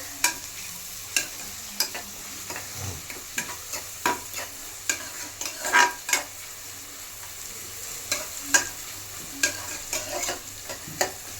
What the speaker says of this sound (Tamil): நல்லா வதக்கிக்கோங்க. இன்னைக்கு நம்ம பிரியாணி தான் செய்ய போறோம்.